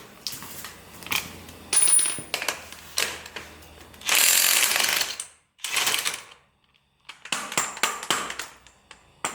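A ratchet clicks in repeated bursts while a 36 mm nut is removed from a Jeep XJ Cherokee during an axle and suspension build, with loud close metallic ratcheting and brief pauses between strokes.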